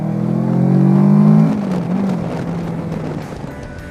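A Kawasaki Versys 650 2015 twin-cylinder motorcycle engine revs high and loud, its pitch climbing over the first second and a half before dropping away into a lower, rougher running note.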